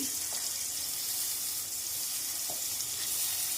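Pointed gourd fries in a pan with a steady, close sizzling hiss, broken by a couple of faint soft knocks as the pieces are flipped.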